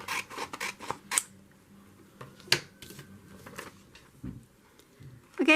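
Scissors snipping out paper berries for a holiday junk journal, a run of short crisp cuts close up, then scattered paper rustles with pauses between.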